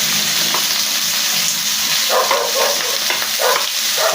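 Pork fries in a hot pan, a dense, continuous sizzle with stirring scrapes and bursts of crackle, loud and close throughout.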